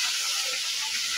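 Fresh fish frying in a village home kitchen in Bikrampur, a steady close hiss and sizzle of oil holding evenly throughout with no talk over it.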